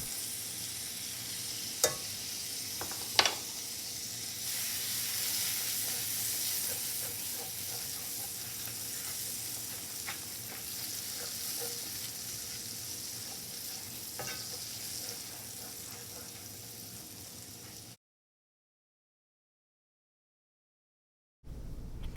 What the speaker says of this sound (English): add 2 teaspoons of minced garlic, and you're going to cook that for about a minute